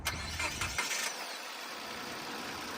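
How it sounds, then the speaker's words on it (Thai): A 2012 Nissan Almera with a 1.2-litre engine cranks briefly and catches, then settles into a steady idle that carries on alone at moderate level. "เดี๋ยวเรามาฟังเสียงเครื่องกันนะครับ"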